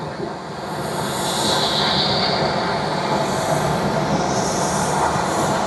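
A loud, continuous broadband roar of aircraft at Tokyo Haneda Airport fills the scene near a terminal gate, steady throughout with no clear talk.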